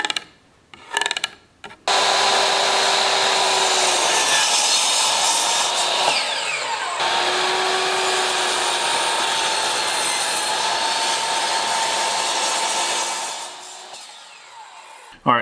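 A power saw cuts through walnut wood with a sustained, loud steady whine that runs for about eleven seconds, with a brief dip midway, preceded by a few short handling knocks and fading out at the end.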